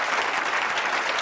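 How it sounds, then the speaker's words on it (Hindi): Brief, dense clapping from a studio audience fills a TV debate set, an even burst of applause lasting about a second at moderate volume with no voices standing out. "इससे भी जोरदार तालियां बजाइएगा जब ये सच सुन लोगे।"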